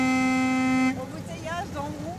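An old car horn blares a single loud, steady honk for about a second during a vintage car rally drive of roughly 80 km, then fades into background bustle with voices talking.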